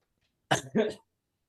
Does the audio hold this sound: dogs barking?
no